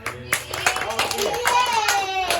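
Children in a classroom clap in short sharp bursts, several crisp claps spaced through the moment, mixed with a teacher's and children's voices speaking.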